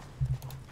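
A brief burst of hoofbeats comes from Geralt's horse Roach in The Witcher 3, a few low, muffled thuds in quick succession, close and moderately loud.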